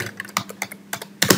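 Close, crisp keystrokes tap out on a computer keyboard in short irregular clusters with brief pauses between, no voices present.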